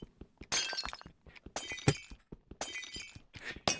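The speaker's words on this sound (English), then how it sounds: "That shattering noise." Repeated glassy shattering bursts from a block or item breaking in modded Minecraft (FTB: Interactions Remastered), several crisp crashes in quick succession mixed with short clicky thunks, fairly loud and close with no talk over them.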